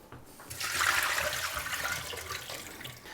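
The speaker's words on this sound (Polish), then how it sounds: "w związku z tym odleję tą wodę, która już powoduje, że ten makaron się robi coraz miększy" Soaking water is poured off softened rice noodles into a sink, a continuous close splashing rush that lasts a few seconds and then eases slightly toward the end.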